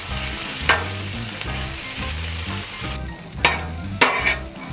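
Canned pinto beans frying with chorizo in a pan, a steady close sizzle with a few sharper stirring scrapes and pops, no talking.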